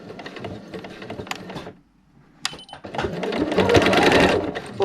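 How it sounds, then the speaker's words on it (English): A domestic sewing machine running a reverse stitch on a seam, a short whirring burst, a pause, then a louder, longer steady mechanical hum with rapid needle ticking, up close with brief talk at the start. "And then I am going to do a reverse stitch."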